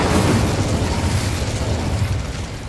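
An Incendio fire spell is cast in a wizarding video game, giving a loud, sustained roaring whoosh of flame with a deep rumbling body that holds steady for a few seconds and fades slightly at the end, with no talk.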